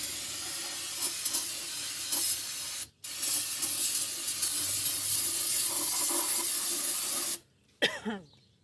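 An aerosol spray can hisses in long bursts while rinsing the rear differential of a 2003 GMC Sierra 1500, the spray stopping briefly twice, with a short cough-like sound near the end.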